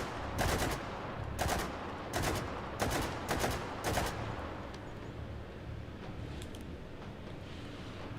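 VZ-58 rifle fire in the virtual-reality shooter H3VR rings out as about six sharp, loud shots in an uneven rhythm over roughly four seconds, followed by a fading, noisy tail.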